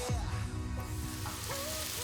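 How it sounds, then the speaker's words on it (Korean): Sesame oil heats and sizzles in a pan during a Korean kimchi-making feast, giving a steady, close crackling hiss with a few thin squeaky tones over it. "참기름을 한 바퀴 정도 살짝 튀겨지듯이 예열을 바짝 시켜주십시오"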